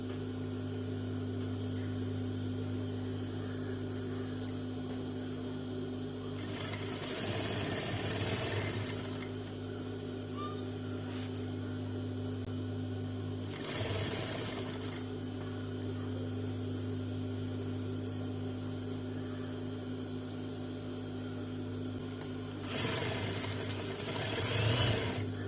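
A sewing machine stitches an Afghani salwar in three bursts of rapid whirring, separated by quieter pauses with a steady background hum; close and moderately loud, with no talking.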